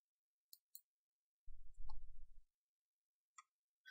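Computer mouse clicks while placing a vehicle in Fuzor design software: a pair of sharp isolated clicks, a short low rumble of program sound, then more scattered clicks, all quiet with no talk.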